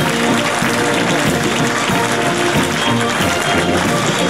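A large crowd applauding the French Foreign Legion as it marches in a parade, a dense, loud, continuous roar of clapping and cheering heard close, with a faint band playing underneath.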